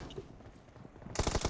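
Rapid automatic gunfire in the BGMI mobile battle game, a burst of quick, loud, evenly spaced shots arriving near the end after a quieter stretch of game ambience.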